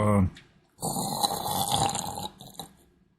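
A person imitates a man's snoring with a rough, throaty snore drawn out for about a second and a half. A short bit of speech comes before it.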